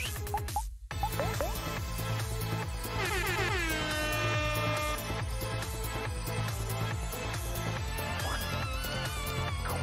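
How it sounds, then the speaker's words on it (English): Loud, blaring air horn blasts repeat over pounding music, dense and continuous at high volume. "Give me the air horn."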